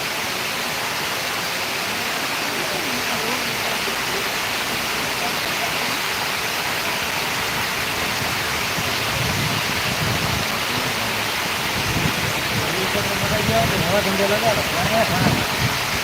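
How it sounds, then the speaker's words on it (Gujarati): Heavy rain roars steadily and densely throughout at the Gondal market yard, a continuous wash of noise with faint low rumbles and voices buried beneath it. "ગોંડલ માર્કેટ યાર્ડમાં ધોધમાર વરસાદ"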